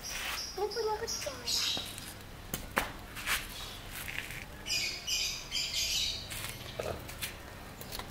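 Gambir pigeons squawk and chirp in short, scattered bursts at close range, with faint rustling and low background noise between calls.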